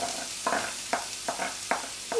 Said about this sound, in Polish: Cebulę już mam zeszkloną. Dodaję startą marchewkę.